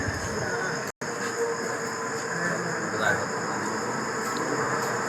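A train pulling into a station on a rainy morning, a steady loud rumble and hum of rolling cars with a brief drop in sound near the start and a voice talking over the noise.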